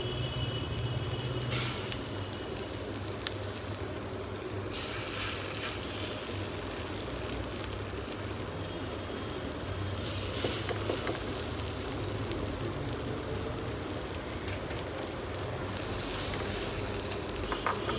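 Poppy seed fritters (posto bora) made with a little gram flour fry in hot oil with a constant, soft sizzle and crackle, steady throughout with a few brighter hisses.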